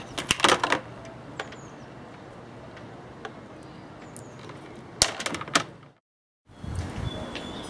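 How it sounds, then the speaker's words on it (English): Wire cutters snip through solar generator leads, giving sharp, close clicks in two quick bursts with quiet room tone between, then a brief dropout. "I'll cut the wires to the right length"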